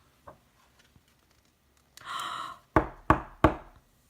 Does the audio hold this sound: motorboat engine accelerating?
no